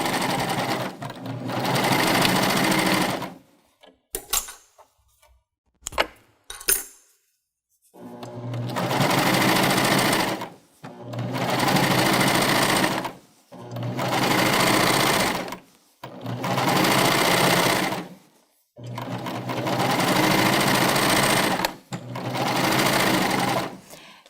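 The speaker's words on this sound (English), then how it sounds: "I'm going to just begin stitching around my fabric" A Baby Lock Euphoria cover stitch machine hems fabric in a series of loud, close bursts of fast, buzzing stitching, first a few short taps and then five or six longer even runs separated by brief silences.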